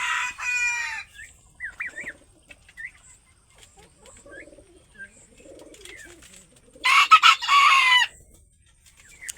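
On a small poultry farm with chickens and turkeys, a rooster crows loudly at the start and again near the end, with soft scattered clucks and faint bird calls in the quiet between.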